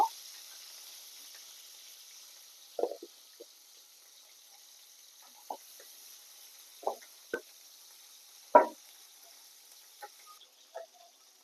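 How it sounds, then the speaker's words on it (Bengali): Small fish fry in hot oil in a frying pan. Scattered crackles and pops rise sporadically over a faint, steady hiss, fairly quiet and close. "মাছটা আমি ভেজে নিব"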